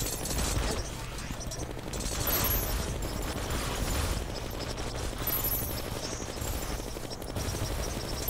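Rapid gunfire with tracing bullets in the video game Terraria during a Duke Fishron boss fight, a loud, sustained stream of shots laid over busy game effects from start to finish.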